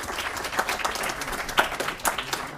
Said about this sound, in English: And I think you deserved a very big applause.